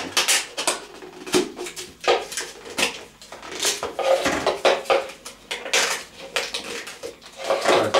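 Plastic bottle parts for a homemade phone tripod being pushed and fitted together, giving a run of close, irregular clicks, knocks and scraping handling sounds with no talking.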